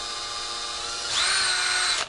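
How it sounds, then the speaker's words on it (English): Power drill boring out a hole: a steady motor whine holds, then rises sharply in pitch and loudness as the bit spins up, close by and alone before cutting off. "I've got a drill, and I'm just going to drill out the top hole"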